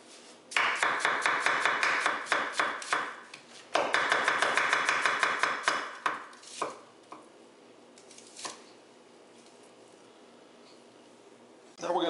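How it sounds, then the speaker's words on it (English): A chef's cleaver chops food on a board in two long runs of fast, loud, even knocks, followed by a few sparse single taps and a soft voice. "We're gonna give a little chop."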